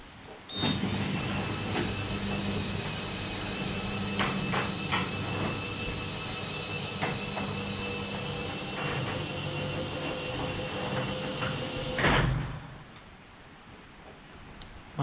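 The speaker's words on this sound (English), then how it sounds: "My door doesn't squeak" A sliding door treated with silicone-based spray glides open or shut smoothly with no squeak, a long steady rolling rumble with light ticks and clicks, ending in a firmer thud near the end.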